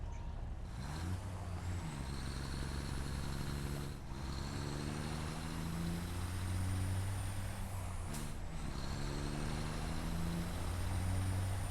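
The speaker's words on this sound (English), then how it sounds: "Like this sound right here was taken from a diesel semi truck." A diesel semi truck sound in the video game Satisfactory rumbles for about twelve seconds, with deep engine revs that rise and fall and two sharp hissing air-brake bursts, with no talking.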